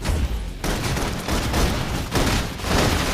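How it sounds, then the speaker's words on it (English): Heavy suppression gunfire from the Love and Deepspace game pours out as a loud, dense, continuous barrage of rapid shots and booms, with no talk over it. "Requesting full suppression gunfire"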